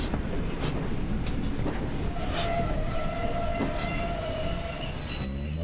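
A Class 6000 King steam locomotive in Train Sim Classic draws its train to a stop at a station platform. Steady rolling rumble runs under thin wheel squeals and brake hiss throughout.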